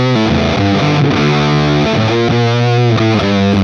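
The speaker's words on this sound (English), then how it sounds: "that sounds like my fuzz pedal into a JCM 800 to me" A heavily fuzzed electric guitar, run from a fuzz pedal into the Overloud TH-U amp plugin, plays thick, saturated chords in a dense, continuous wall of distortion, loud and up front.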